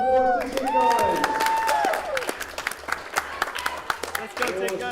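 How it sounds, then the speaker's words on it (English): Spectators at a summer team tournament give a round of applause, scattered clapping and cheers building under loud amplified talk, with claps continuing through the middle. "Let's give them a round of applause to you guys"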